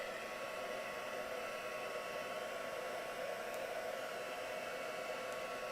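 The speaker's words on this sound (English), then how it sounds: "Just be careful when you're drying your texture paste that obviously you don't want it to puff up too much." A heat tool blows steadily while drying texture paste on a stencilled craft piece, a constant whooshing airflow hiss at even level with no talk over it.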